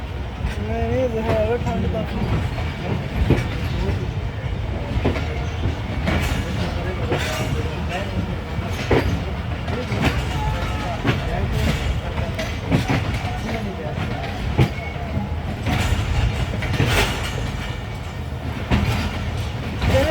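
A rail car train stands or rolls at Khanewal station in Punjab with continuous loud rumbling and rail noise, while people talk nearby throughout.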